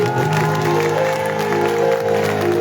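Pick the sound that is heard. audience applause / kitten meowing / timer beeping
audience applause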